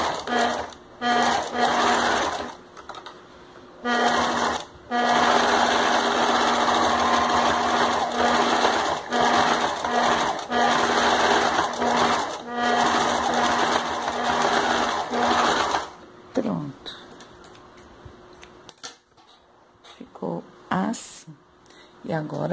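A sewing machine runs zigzag stitches along the edge of a plush slipper in rapid bursts with short pauses, loud and close; someone talks in between the runs.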